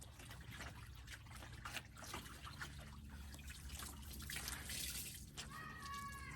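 Water trickles and drips into a bucket as wet clothes are wrung out by hand during off-grid washing with a scrub board, a soft, close, continuous patter that swells briefly.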